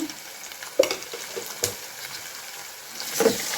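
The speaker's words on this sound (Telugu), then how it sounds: "మంచిగా కలుపుతున్నాను నేను తర్వాత టమాటాలు వేస్తున్నాం" Ginger, onion and turmeric fry in a pan with a steady sizzle, while a spoon stirs and scrapes nearby and gives a few sharp knocks.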